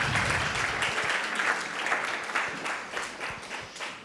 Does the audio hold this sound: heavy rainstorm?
no